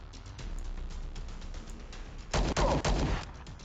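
Rifle fire in the video game Star Traders: Frontiers: a loud, close burst of several rapid shots that rises sharply above a steady background hum.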